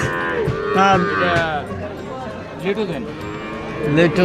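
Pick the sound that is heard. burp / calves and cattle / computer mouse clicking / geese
calves and cattle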